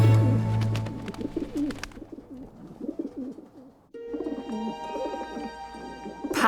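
Courting pigeons cooing close by, a series of soft throaty rolling coos in bursts, joined by brief wing flutters and faint background chirps.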